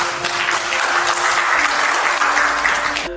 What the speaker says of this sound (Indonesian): Tepuk tangan nggak apa-apa.